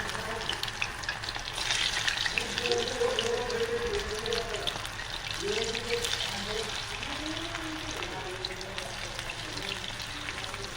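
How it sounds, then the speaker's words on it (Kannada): Cauliflower florets for Gobi Manchurian fry in hot oil, giving a continuous close crackling sizzle with occasional stirring and scraping noises throughout. "ಫ್ರೈ ಆಗ್ತಾಯಿದೆ ಗೋಬಿ."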